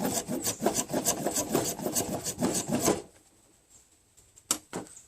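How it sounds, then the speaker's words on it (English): A ferro rod scrapes fat wood in a fast run of rough rasping strokes for about three seconds, then a pause and two more isolated scrapes, close and loud. "let's take and scrape a little fat wood off of there and see if we can ignite it"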